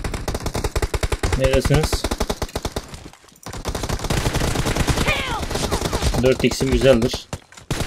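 AKM assault rifle fire in the PUBG Mobile battle royale game comes as rapid loud automatic bursts with short pauses, while players talk over the shooting.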